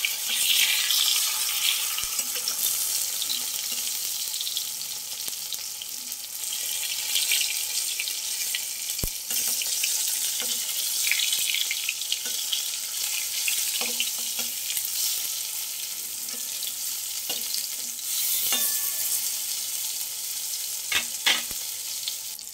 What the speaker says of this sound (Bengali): এক পাশ ভাজা হয়ে গেছে, আমি একটু উল্টে দেবো এবার।